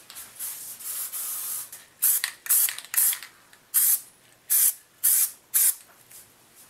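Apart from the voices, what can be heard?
spraying adhesive from a spray can onto cardboard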